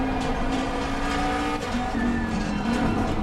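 A Ford Mustang GT3 V8 racing car in Assetto Corsa Competizione gives a steady, continuous engine drone with a sustained tonal note that shifts pitch slightly partway through, fairly quiet under a broad noisy bed.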